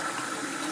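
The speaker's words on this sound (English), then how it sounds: "The water's been running for a while." Tap water runs steadily into a sink as developed black-and-white film is rinsed, a continuous close splashing hiss with no talk over it.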